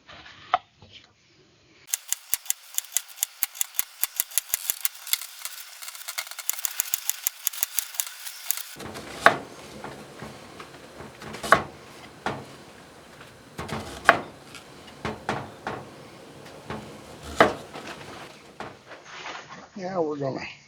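Red onions sliced thinly with a knife on a board: a rapid run of crisp, evenly spaced chops, then slower, heavier single cuts spaced a second or two apart, close and clear with no talking.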